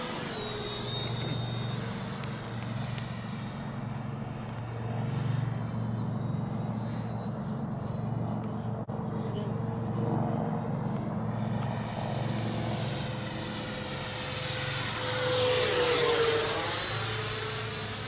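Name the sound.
Freewing MiG-29 RC model jet engines in flight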